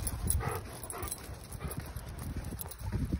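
A Great Pyrenees and a golden retriever walk through snow in Houston, their paws making a quick, uneven run of soft close-up thumps and crunches, with light panting.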